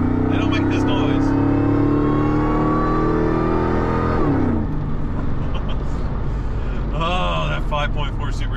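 A supercharged 5.4-litre V8 in a classic Ford Lightning pickup with side pipes revs loudly and close, its pitch climbing and then dropping off before a second shorter rev near the end.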